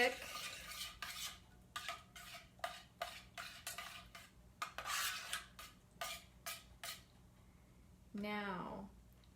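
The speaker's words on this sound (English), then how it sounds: "Just going to give that a little stir. Oh, it's very thick." A spoon stirring thick pumpkin pasta sauce in a pot, a series of short scraping strokes in an irregular rhythm, close and clear, with a brief voice near the end.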